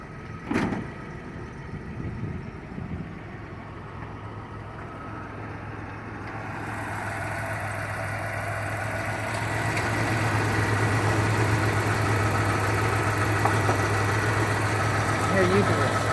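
A stock, unmodified 1989 Toyota Pickup 4x4 longbed idles with a steady low hum that holds throughout and swells slightly louder midway, with a brief knock near the start.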